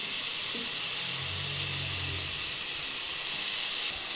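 Paneer frying in a pan for a village-style palak paneer gives a steady, loud hiss and sizzle that holds evenly throughout, with no voices.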